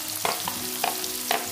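Onion tossed into hot oil with cumin and asafoetida, frying and being stirred in a pan, giving a steady sizzle with three brief louder stirring scrapes, close and alone.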